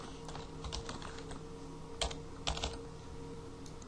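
Fingers tap out a rapid run of keystrokes on a computer keyboard, close and fairly soft, with a couple of louder clacks midway over a faint steady background hum.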